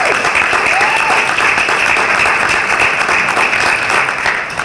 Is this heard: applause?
yes